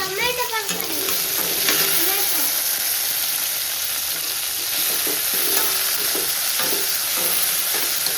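Tomatoes fry in a pan for biryani, giving a loud, continuous close-up sizzle with occasional stirring clatter, and a brief voice at the start.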